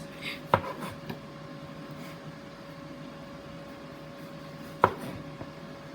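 A knife cuts green plantain into regular slices on a board, giving two crisp, sharp chops several seconds apart with a faint tap in between, close and quiet against a steady low appliance hum.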